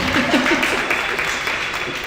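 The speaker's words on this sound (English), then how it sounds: "Big applause for him as well, please." Audience at a design night event clapping and applauding, a dense wash of hand claps that holds fairly steady, with a voice briefly audible near the start.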